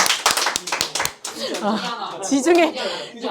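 A brief burst of hand clapping from a few people, then voices start talking with a light chuckle.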